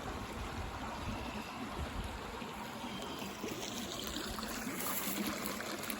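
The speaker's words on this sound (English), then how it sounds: "In case you like to hear bubbling brooks." Chub Creek, a bubbling brook running through a property, heard as a steady, fairly quiet rush of trickling and gurgling water with no voices.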